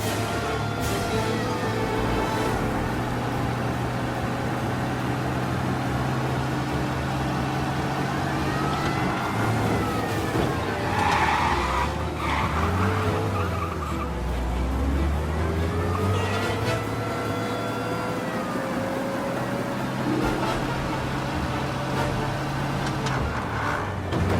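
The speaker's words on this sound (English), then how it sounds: "You lose them by driving real fast and getting clear of them." A car speeds along with a loud, continuous engine roar and swelling revs over a dense rumble of road noise; no distinct tire skid stands out.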